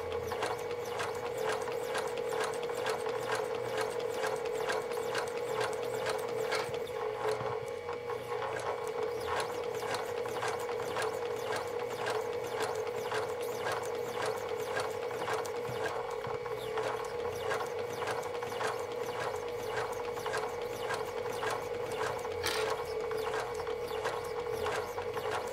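A sewing machine stitches fabric for a sloth plush stuffed animal with a steady, rapid mechanical clatter that runs evenly throughout, close by and alone.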